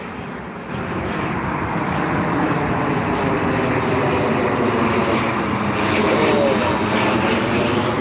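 Steady broadband roar of a jet airliner taking off from runway 09 right at Heathrow Airport, heard from Myrtle Avenue just across the road, loud and sustained throughout.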